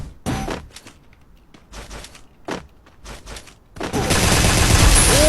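Rapid automatic gunfire from a video game, with several short close bursts spaced over the first few seconds, then a loud, dense sustained barrage of fire.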